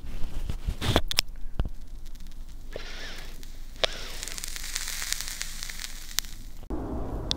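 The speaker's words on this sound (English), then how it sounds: "the leaf, when you light it, it's got this crackling noise that I enjoy so much" Lit pipe tobacco blend gives faint, scattered crackles and soft sizzling pops close up, with a low hum beneath and a few sharper clicks along the way.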